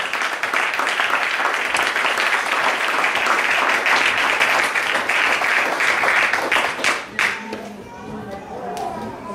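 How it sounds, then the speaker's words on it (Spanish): A church congregation claps hands together in a dense, sustained burst of applause that fills most of the stretch before thinning out near the end, with voices mixed in under the clapping. "¿Cuántos le dan palmas de Dios, hermano?"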